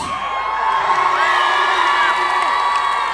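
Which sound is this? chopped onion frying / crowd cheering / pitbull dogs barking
crowd cheering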